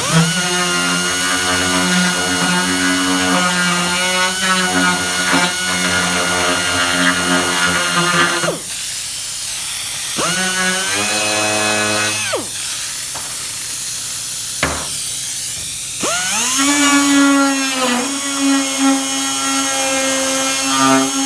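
A power drill opens up marked holes in the dash of a 2007 Mustang. Its loud, close, high whine rises and falls in pitch over several bursts, with brief pauses where the motor spins down and restarts, and no talking.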